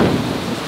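Heavy rain pours steadily at an outdoor seafood eatery in Saigon, a dense, close hiss with low rumbling underneath that may be thunder, continuous and without speech.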